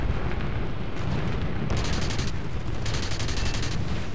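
Guns of an He-162 jet fighter firing in a flight combat video game, two rapid rattling bursts over a steady roaring engine drone, the second burst longer.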